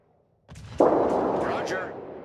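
Naval guns fire in the World of Warships video game. After a short quiet start, a single heavy boom hits and then rumbles away.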